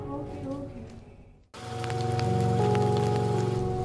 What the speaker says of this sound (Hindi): बारिश बहुत तेज है, कहीं भीग ना जाए।